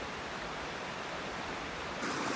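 A creek on a wilderness hiking trail pours in a constant, dense rushing hiss, close and loud with no pauses, growing slightly brighter at the very end.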